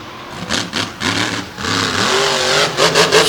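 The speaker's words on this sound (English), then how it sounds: "Huge launches with this truck." A big white Ram monster truck of the J.R. McNeil team revs hard as it launches at a 2021 monster truck night show, the engine surging and rising in repeated roaring pulses, loud and close.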